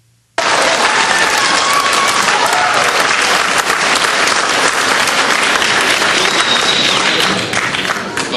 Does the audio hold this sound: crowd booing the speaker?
yes